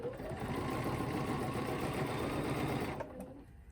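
A sewing machine stitches a quilt block during ruler work, its rapid needle hammering running close and steady for about three seconds before slowing and stopping near the end.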